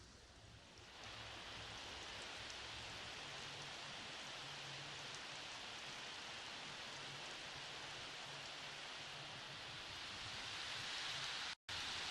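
Steady rain in a Jamaican cartoon, a dense even hiss that starts a little softer and holds constant and fairly loud for the whole stretch, with a faint low hum underneath and no voices.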